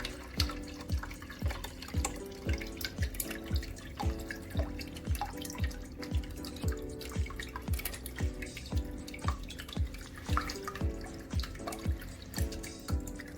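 Water running into an AeroGarden reservoir with its motor pump working, giving a steady rhythmic dripping and trickling pattern that repeats evenly throughout, close and moderately loud with no talking.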